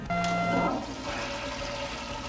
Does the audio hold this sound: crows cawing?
no